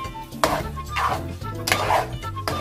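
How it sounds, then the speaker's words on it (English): A seafood stuffing is mixed with breadcrumbs in a bowl, with a utensil scraping and clinking against the bowl in a few uneven strokes close by. "I'm gonna mix it really well"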